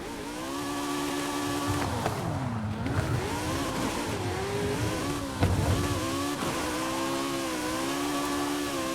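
The Atom V8 car in Forza Horizon 5 drives with a loud, close, high-pitched engine roar, revs rising and dipping as it shifts through gears under steady throttle.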